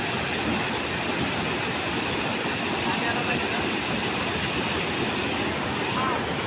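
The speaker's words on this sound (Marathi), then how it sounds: "आणि हा असा पाणी वाहत पुढे" Steady, dense rush of water from a hillside waterfall at Jambhali near Korchi, loud and continuous without a break, a broad white roar filling the whole stretch.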